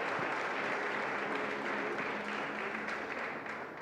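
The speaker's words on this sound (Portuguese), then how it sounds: "quem quer aplauda e glorifique o nome de Jesus" Audience at a church unity breakfast applauding, a full, sustained burst of many people clapping that stays loud and steady before easing slightly at the end, with no talk over it.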